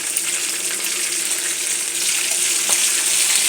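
Ginger, green chilies and curry leaves fry in a pan with a steady, close, loud sizzle and crackle that holds even throughout, with no talking.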